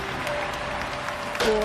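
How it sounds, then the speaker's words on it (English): A crowd at a field event bursts into applause and cheering, a dense wash of clapping that swells sharply near the end of the short burst. "The crowd goes wild!"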